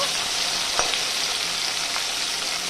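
Chopped tomato with salt fries in a pan for a Bengali okra dish, a steady close sizzle with a couple of faint stirring scrapes and no talking.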